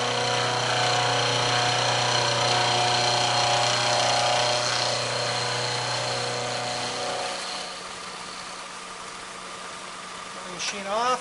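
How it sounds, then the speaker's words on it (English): A milling machine cutter runs steadily through a metal part during direct indexing, a loud continuous motor and cutting drone that drops away near the end as the machine is switched off, with a brief clatter at the close. "Turn the milling machine on. Run the cutter through the part."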